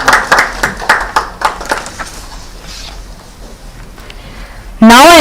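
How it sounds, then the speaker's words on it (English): A scattered round of applause for a speaker at the NALSAR programme release and admission fair rises briefly and fades within a couple of seconds, leaving a quiet room before a sudden tonal sound at the end. "Let us give a round of applause to Ms."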